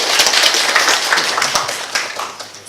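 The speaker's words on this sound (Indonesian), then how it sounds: "Kita berikan tepuk tangan dulu" An audience at a public lecture on Islamic economics claps steadily for the speaker, a dense, continuous round of applause from a roomful of hands, fairly close and loud throughout.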